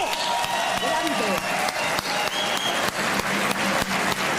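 Audience applause at a music awards ceremony, steady crowd clapping with a voice speaking over it throughout.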